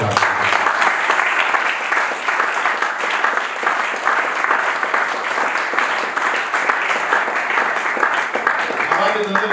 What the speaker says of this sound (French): Acclamez pour la foi.